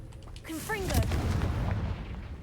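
Confringo fire spell from Hogwarts Legacy: a sharp, bright blast cracks out once, then a booming, rumbling impact and crackling burn linger and fade over a couple of seconds, with brief voice-like sounds mixed in near the start.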